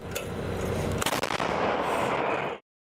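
A burst of loud, rapid fire from a Ukrainian Bohdana self-propelled howitzer, with sharp cracks and a rolling rumble, fills the clip, then cuts off abruptly into silence.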